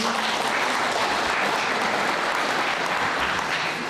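A crowd gives sustained, even applause for a 69-year-old beekeeping father, a thick wash of many hands clapping at a steady level throughout.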